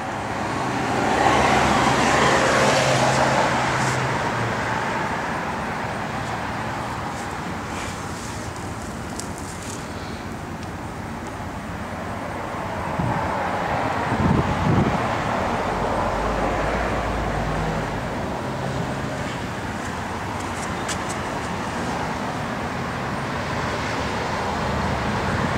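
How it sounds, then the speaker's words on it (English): A 1971 Dodge Charger R/T with an air grabber hood drives down the road, its engine and road noise rumbling steadily at moderate level with a brief louder surge midway, no talking. "Car scoots down the road, I'll tell you that."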